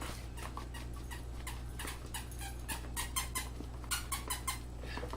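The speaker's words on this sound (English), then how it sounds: "Violet is squeaking away with one of her toys." A dog named Violet squeaks a squeaky toy in rapid, uneven squeaks, some in quick clusters, heard faintly over a steady low hum in a kitchen setting.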